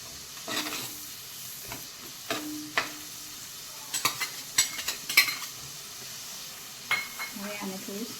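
Chopped onion sautés in a clay pot over a gas flame, giving a soft sizzle under scattered scrapes and taps of a stirring utensil, with brief clatters in the middle.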